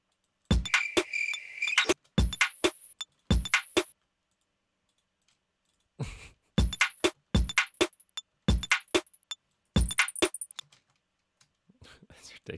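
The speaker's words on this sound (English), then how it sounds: "These crickets should work." A cricket chirping sound sample plays in repeated sharp, high-pitched trilling bursts separated by short silences, with a longer quiet gap midway and faint quiet voice-like noise at the end.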